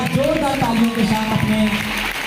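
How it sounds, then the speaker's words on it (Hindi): Loud, dense applause from students and teachers at a school ceremony, a steady wash of clapping with a voice speaking over it. "एक बार जोरदार ताली, पूरी ऊर्जा और उत्साह के साथ जोरदार तालियों के साथ"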